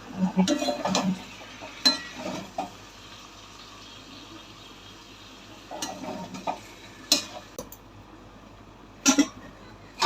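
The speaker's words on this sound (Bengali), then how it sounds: "নেড়ে দেবো।" Tomatoes being stirred into a cooking pot, with scattered scraping and clinking of a utensil against the pot over a soft sizzle, in short bursts separated by quieter stretches.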